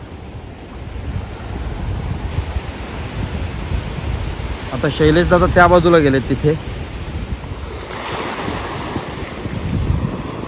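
Steady rush of sea waves and wind at the shore where a creek meets the sea at Malgund, with someone speaking briefly midway.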